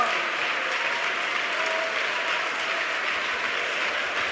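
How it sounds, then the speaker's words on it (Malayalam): A church audience claps in response to a preacher's sermon, a dense, steady roar of many hands that stays loud and even throughout. "കൈയടിക്കാൻ മറന്നു പോകണ്ട,"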